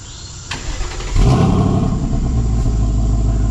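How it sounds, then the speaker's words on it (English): A 2024 Ford Mustang GT V8 with dual exhaust starts up close by: a short starter whine, then a loud rumbling catch into a steady, deep idle. "dual exhaust, which we can take a listen to."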